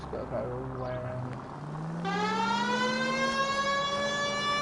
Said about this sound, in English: I love having a siren on a car.